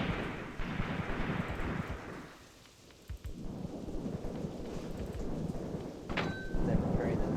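Mortar fire in the WWII tactical game Graviteam Tactics Mius Front, a steady rumbling barrage of booming thuds rolling like thunder, with a brief lull midway before heavy blasts resume.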